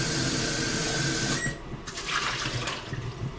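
Water runs steadily into and around a jar being rinsed out, a continuous close splashing rush that shifts to sloshing partway through, with no talking.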